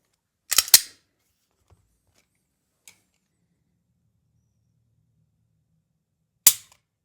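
Two sharp mechanical snaps of a Glock fitted with an Apex Tactical trigger being dry-fired, one burst early and another near the end, with a tiny tick between and otherwise near silence.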